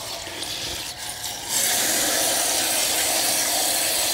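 Water rushing through a Lennox air conditioning unit being cleaned, a steady hissing flow that surges louder after a moment and then holds constant, close and without voices.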